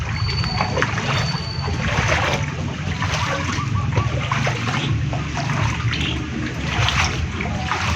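Floodwater after Typhoon Kristine sloshes and splashes continuously nearby, a broad wet churning with occasional louder splashes, as if something wades or moves through flooding.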